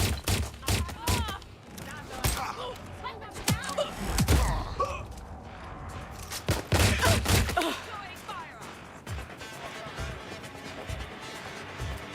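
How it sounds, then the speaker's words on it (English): Gunfire in Watch Dogs: Legion, with several sharp, loud bursts of shots and volleys clustered in rapid sequences, mixed with thuds and impacts, while voices shout and talk throughout. "Shots fired!"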